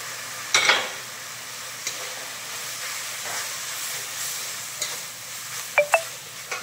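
Grated paneer sautés with a tomato spice mix in a pan, a soft continuous sizzle with occasional sharp scrapes and clicks of a utensil against the pan.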